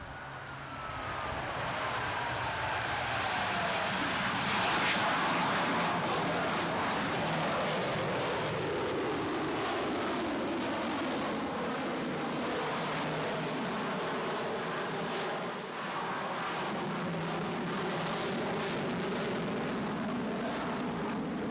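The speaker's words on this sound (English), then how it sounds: "As he performs a touch and go, listen closely to the fine power changes that he makes in his aircraft" A Navy jet performs a touch-and-go at Naval Air Station Chase Field, Beeville, Texas, during an air show, its loud engine roar sweeping past while the thrust shifts up and down, with the howl rising and falling throughout.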